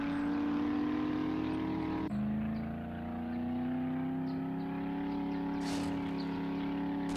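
A supercharged vehicle engine in the survival game 7 Days To Die Alpha 20 gives a steady, close, droning hum that dips around two seconds and then slowly climbs in pitch, with no voices.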